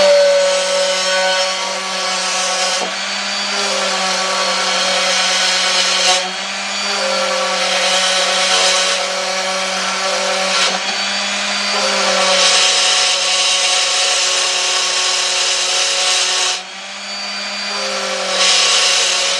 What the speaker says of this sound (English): I got me my orbital sander and got an 80 grit sandpaper.